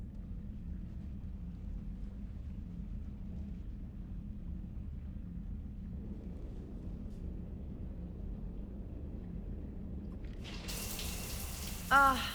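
Shower water runs steadily in the video game Mass Effect 3, a faint, low, continuous wash of sound, with a brief brighter burst near the end.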